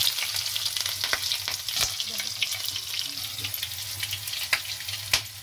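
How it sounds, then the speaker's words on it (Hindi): Cumin, crushed garlic and green chili fry in hot oil for a pumpkin sabzi, giving a steady close sizzle with scattered sharp crackles and pops and faint clinks throughout. "गरम हो गया है, इसमें डालेंगे जीरा, लहसुन कूट कर डालेंगे इसमें"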